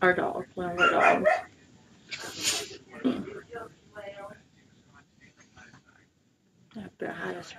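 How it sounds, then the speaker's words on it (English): A dog barks a few times in short bursts, close by, mixed with a person talking and some quiet pauses. "That's our dog, one of our dogs."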